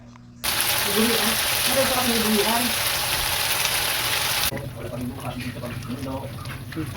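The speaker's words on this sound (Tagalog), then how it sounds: "At ito niluluto niya yung sauce." Spaghetti sauce cooks in a pan with a loud, steady sizzle that cuts off abruptly after a few seconds, leaving quieter kitchen background and voices.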